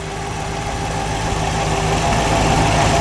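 A 1963 Studebaker Avanti R1 V8 idles steadily up close, a smooth, even low rumble that holds at constant volume with a faint mechanical patter and no talking.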